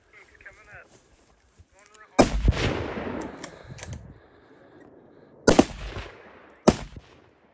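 Gunshots during a wild boar drive hunt outdoors: three loud, sharp shots spaced a few seconds apart, each with a ringing tail, after people talk excitedly.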